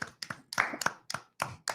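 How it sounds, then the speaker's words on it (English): A small group clapping after a Women's World Cup mention, sharp separate claps in an uneven rhythm, close and fairly quiet. "Round of applause for that."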